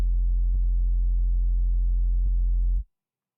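A synthesized sub-bass sine wave with overtones holds a loud, steady low tone for almost three seconds, then cuts off. Two faint clicks occur during the tone.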